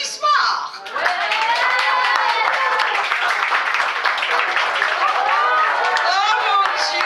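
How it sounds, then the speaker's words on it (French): A concert audience applauds and cheers as a performing team makes its entrance, with clapping and excited voices, including children's, rising into a loud, continuous din that fills the room from start to finish. "Et maintenant, on applaudit l'entrée de l'équipe du Jeudi Soir."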